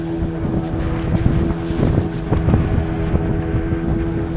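Motorized fishing boats out on prawn-fishing grounds near a village drone with a steady engine hum and low rumble, loud and continuous, with wind buffeting the microphone and no voices.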